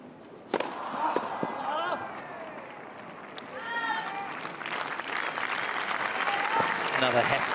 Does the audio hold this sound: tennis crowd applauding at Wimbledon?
yes